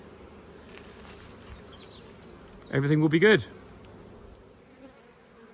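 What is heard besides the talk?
honeybee drones flying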